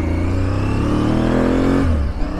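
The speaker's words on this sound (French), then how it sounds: "je roule avec la nouvelle moto de Florence, sa Touareg" A Touareg adventure motorcycle engine revs up close on an off-road trail ride, a loud, rising, sustained drone that holds steady before easing off near the end.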